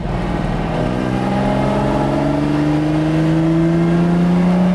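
A Lamborghini Miura S engine revs steadily upward toward 4,000 RPM, a loud, close, rising mechanical drone with climbing engine tones and no voices.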